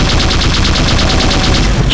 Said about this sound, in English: Minigun is loud as fuck